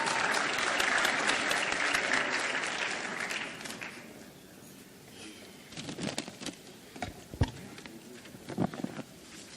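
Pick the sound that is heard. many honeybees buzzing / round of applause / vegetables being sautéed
round of applause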